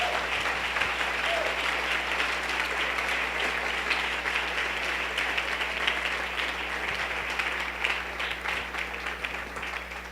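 A church congregation at a Sunday service applauds in praise, a dense, continuous roar of clapping that holds steady for about ten seconds over a low, constant hum.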